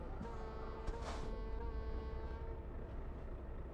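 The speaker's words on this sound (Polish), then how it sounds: "A to był pociąg." A passing train in Euro Truck Simulator 2 at night, a steady low rumble with a sustained tonal whine and a brief horn-like burst, heard from the cab at moderate distance.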